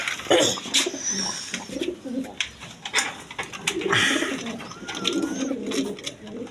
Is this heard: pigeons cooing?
yes